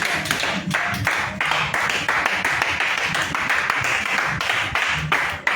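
A church congregation at an evening healing prayer service claps in quick, rhythmic, sustained waves, loud and close, with a roomy crowd din underneath throughout.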